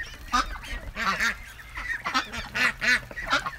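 Several ducks honk and quack in repeated, overlapping bursts close by, loud and irregular, wanting to get out of their pen; no speech over them.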